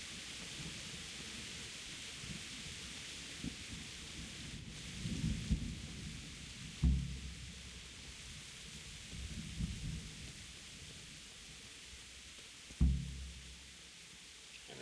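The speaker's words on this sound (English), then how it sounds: "And this rain in game's almost as bad as the rain outside right now." Steady rain with rolling thunder in the medieval video game Kingdom Come: Deliverance, a constant hiss broken by a few deep rumbles and two sharper cracks, heard alone with no talk.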